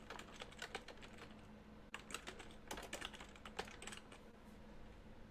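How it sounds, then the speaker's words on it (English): Fast, close typing on a computer keyboard, with irregular bursts of key clicks and a short pause before the tapping resumes, quiet and without any voices. "type in your address or your company name"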